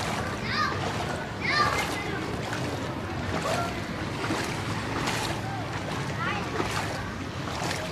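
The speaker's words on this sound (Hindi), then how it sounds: "चाचू पानी तो ना उड़ाओ" Water splashes repeatedly while children talk and call out over it, with wind and lapping water around them.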